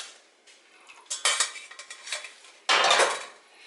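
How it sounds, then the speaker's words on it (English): Sauce for jerk turkey is poured through a strainer into a second pot, with metal pot and utensil clatter, scraping knocks, then a loud close rush of pouring near the end. "I'm going to strain this into a second pot."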